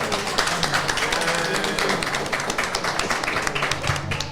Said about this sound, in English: Give yourselves a round of applause for coming out here tonight.